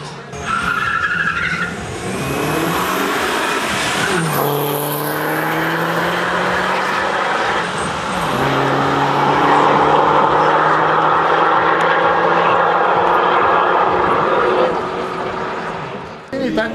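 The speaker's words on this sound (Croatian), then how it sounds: "Broj 12, Slavica Obradović u Opel Omegi." An Opel Omega race car engine roars loudly, its pitch climbing through the gears with clear shifts before holding a sustained high-revving drone, like a car speeding hard along a circuit.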